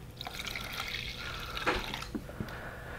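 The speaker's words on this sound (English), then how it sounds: "got our fresh Shell Light going in" Light solvent pours into a tub for rinsing remote-control car differential parts, a steady liquid wash with a few drips and splashes, close and alone.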